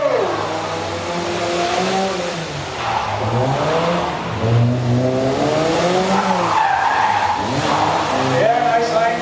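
A buggy and cars race side by side in an autotest at the Ballymena Car Show, engines revving up and down with tyre squeal, while a commentator talks over the continuous, loud motor noise.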